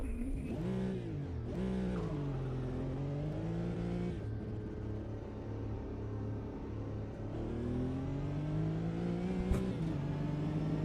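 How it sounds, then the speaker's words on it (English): Car engine in a sim racing video game, droning steadily with pitch that rises and falls as the car accelerates and eases off, loud and continuous throughout. "That noise, engine noise, was getting on my nerves a little bit now."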